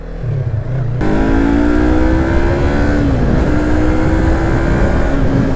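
A 2020 Yamaha MT-03 motorcycle accelerates hard, its engine note rising and holding a loud, close whine through the gears while wind rushes past, with no talking.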